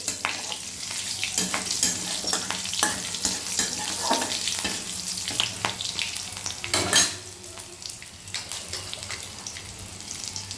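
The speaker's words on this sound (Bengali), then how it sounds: "ওই তেলেই দিয়ে দিচ্ছি কাঁচা লঙ্কা আর সামান্য একটু কালো জিরে" Green chilies and nigella seeds crackle in hot oil in a pan, a continuous close sizzle with stirring clatters and a louder spatter near the end.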